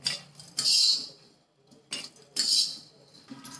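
Roasted sesame seeds, coconut and peanuts are tipped into a small mixer jar, giving two bursts of bright rattling and clinking against the container, separated by quieter handling noises, close and with no talk.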